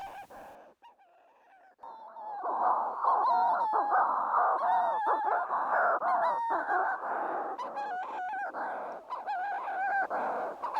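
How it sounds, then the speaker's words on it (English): Manx shearwaters, long-lived seabirds, giving loud, harsh, rhythmic crowing calls close by, repeated cackling phrases running continuously with no talking. "Yes, the Manx shearwater is a very special bird."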